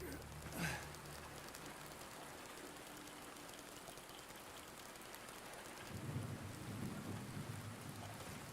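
Steady rain with a low roll of thunder in the Silent Hill 2 Remake video game. A constant hiss carries a rumble that swells toward the end, with a faint voice briefly underneath.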